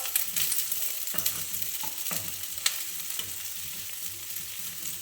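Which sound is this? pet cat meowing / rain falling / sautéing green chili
sautéing green chili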